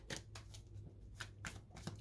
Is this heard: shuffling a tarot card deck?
yes